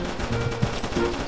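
A deployed turret firing in a video game, rapid automatic gunfire in a continuous loud burst, close and dense, with no talking.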